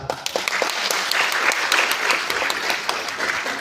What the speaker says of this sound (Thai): ขอบคุณเสียงปรบมือนะครับ